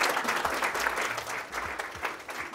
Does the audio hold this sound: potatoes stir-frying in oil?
no